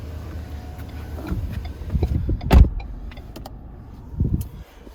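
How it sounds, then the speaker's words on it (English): Electric power windows on a 2020 Ford Fusion SE rolling up automatically: a short motor whir with a soft thud as the glass seats, then a second brief whir, heard close inside the cabin. "automatic up on these windows here"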